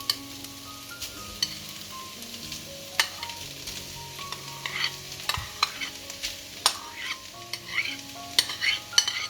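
Mashed potatoes are added to a sizzling samosa filling in a pan, with frying crackle and scattered scraping and stirring clinks throughout, close and moderately loud.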